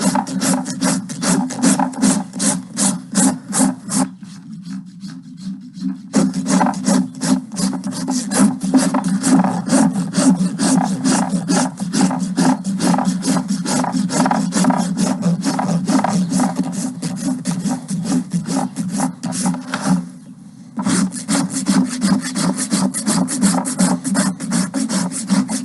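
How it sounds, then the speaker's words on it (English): Steady rhythmic rasping of a farrier's rasp filing down a horse's hoof during a ranch trim, loud and close, continuous strokes for most of the span with two brief pauses. "I'm going to rasp to that line"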